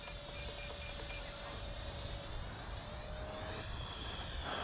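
A 3D printed J10 model jet flies past with a steady, fairly loud whooshing engine drone that holds throughout and swells slightly toward the end, alone with no talk.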